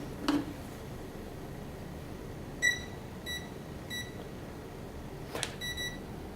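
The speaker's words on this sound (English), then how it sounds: "The 3 beeps means that it detects 3-cell batteries, 3S batteries" A boat's electronic speed controller beeps as it detects a 3-cell battery: three short, evenly spaced electronic beeps, followed by a quicker pair. The beeps are faint over a quiet room hiss, with a couple of soft clicks.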